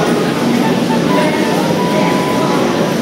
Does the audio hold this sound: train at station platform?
yes